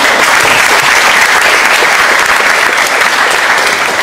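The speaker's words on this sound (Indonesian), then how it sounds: "Tepuk tangan dulu buat kami." A forum audience gives steady, dense applause for the introduced speakers at a leadership event. The clapping stays loud and even throughout, with no talk over it.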